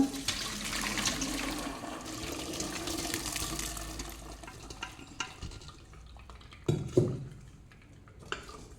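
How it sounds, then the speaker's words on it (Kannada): Water pours and drains steadily for several seconds from cooked parboiled rice, then tapers off into a few clinks and knocks of a metal pot close by. "ಅನ್ನನ ಮೆಲ್ಲ ಬಸ್ಕೊಳ್ಬೇಕು"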